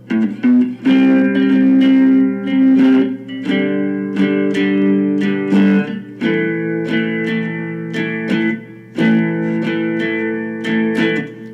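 A fretless three-string guitar strummed in a steady down-up rhythm, repeated chords ringing out close and clear with no voices.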